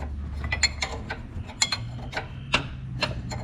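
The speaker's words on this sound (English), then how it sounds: "So you just flip your wrench back and forth." A wrench ratchets back and forth on the brake pedal adjuster of a Kubota BX tractor, giving a series of light, close metallic ticks and clicks in an irregular rhythm with no talking.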